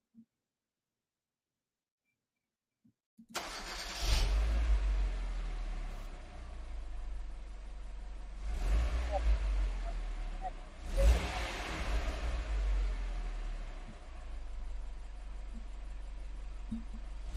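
A bus engine starts up after near silence and idles with a deep, steady rumble, swelling in two louder revving bursts; the sound is close and continuous throughout.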